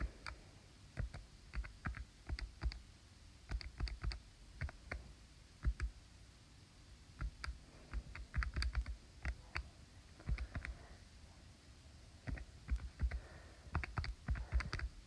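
Rapid plastic key presses tapped in short bursts with brief pauses, close and fairly quiet, like entering figures on a calculator.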